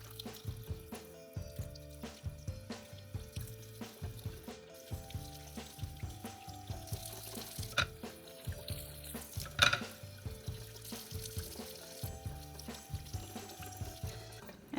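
Chicken wings are rinsed under a running kitchen tap, a steady splashing water stream sitting beneath rhythmic background music throughout.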